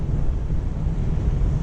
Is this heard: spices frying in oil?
no